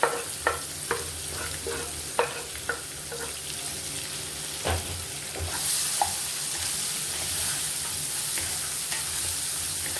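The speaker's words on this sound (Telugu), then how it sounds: "ఇప్పుడు ఈ ఆనియన్స్ బాగా ఫ్రై అవ్వాలండి. ఆనియన్స్ కూడా బాగా ఫ్రై అవుతున్నాయి." Sliced onions frying in oil with turmeric in a pan for a gongura curry: a steady hiss of sizzling with irregular spatula taps and scrapes as they are stirred, fairly quiet and close.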